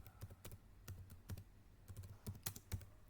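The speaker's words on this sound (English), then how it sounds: "now I am going to type in application" Keys clatter on a computer keyboard in quick, uneven bursts of taps, close and quiet, with no voices.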